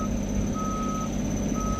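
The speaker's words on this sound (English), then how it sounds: "It's gonna start beeping" An irrigation machine gives a steady series of high electronic beeps on start-up over a constant low engine hum, with no voices.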